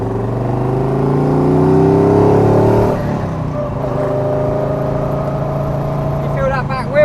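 A 2013 Morgan Three Wheeler cruising at 45 mph on a countryside road, a steady droning engine and wind noise throughout, briefly louder at first before settling into an even hum.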